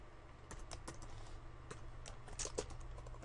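Code being typed on a computer keyboard, a quick uneven patter of close key clicks over a low steady hum, with no voice.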